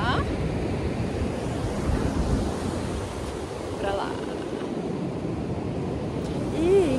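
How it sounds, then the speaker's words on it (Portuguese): Ocean waves wash onto an empty beach in a continuous roar, with gusting wind buffeting the microphone throughout. "Viemos dar um pulinho aqui na praia."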